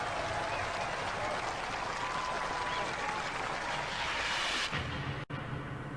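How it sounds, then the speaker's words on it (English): A television studio audience at a robot combat show gives a thick, continuous round of applause for the super heavyweight winners, loud and unbroken before cutting off abruptly near the end. "give them a round of applause"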